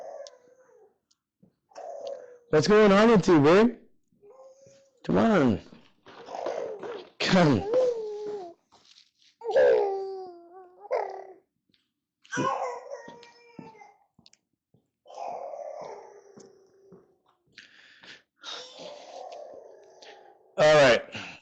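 A pet dog howls and whimpers in repeated drawn-out bursts separated by pauses. A person speaks quietly to it in between.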